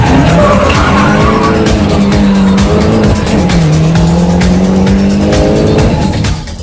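A race car spins out of control on a circuit, its tires squealing loudly in long sustained wails over the steady roar of engines from the surrounding field.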